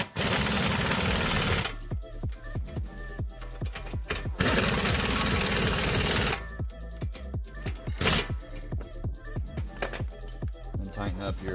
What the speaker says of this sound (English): I'll go ahead and tighten up the strut bolts on the bottom.